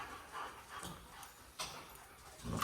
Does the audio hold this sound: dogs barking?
yes